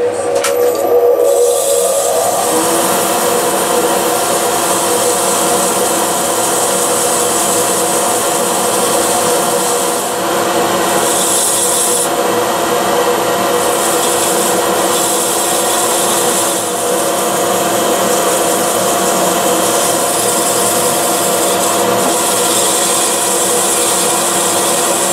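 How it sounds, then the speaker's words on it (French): Sandpaper presses inside a square-rimmed apple wood bowl spinning on a wood lathe. It makes a loud, continuous, close rushing scrape over the steady whir of the lathe, with no talking. "Petit coup de ponçage dedans."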